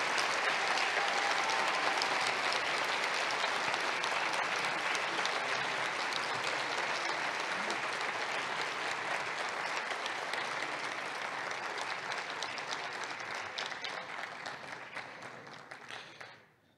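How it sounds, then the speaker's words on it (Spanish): Audience at a tribute concert in Saltillo gives warm, sustained applause that stays dense and even before gradually thinning and fading out. "también ha recibido este cariñoso aplauso de la concurrencia"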